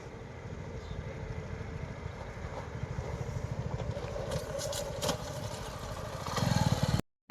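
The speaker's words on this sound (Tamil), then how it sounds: "இந்த பள்ளத்தில் பைக் வந்து எப்படி கம்ஃபர்டபுளாக இறங்குது ஏறுதுன்றதை பார்க்க போகிறோம்." A Suzuki V-Strom 250 touring motorcycle rides down into and back out of a deep off-road pit, its engine chugging at a steady mid pitch, then rising briefly before the sound cuts off.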